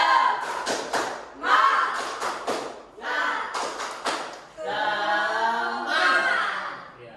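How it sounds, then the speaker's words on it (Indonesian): A fifth-grade class does the tepuk semangat spirit clap, sharp rhythmic clusters of hand claps alternating with the children's chanted voices, moderately loud in a classroom. "Tepuk semangat."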